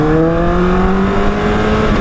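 A motorcycle engine holds a steady, loud drone with strong harmonic tones that climb and ease as the rider shifts gears, continuous throughout with no talking.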